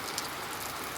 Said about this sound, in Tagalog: Lakas ng ulan guys.